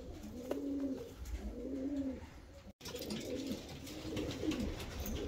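Pigeons of show breeds such as Maltese, Japanese and Königsberg types, young birds kept in a loft, coo in repeated low rolling phrases close by, with a steady hum of other birds and loft noise underneath.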